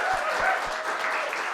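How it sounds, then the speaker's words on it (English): An audience applauding at a trans community group telethon, a steady wash of clapping, moderately close and continuous. "So give MTUG one more round of applause."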